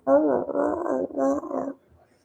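A dog gives a drawn-out, throaty vocalization, a growling whine rather than sharp barks. It comes in two long stretches, close and fairly loud, then falls quiet.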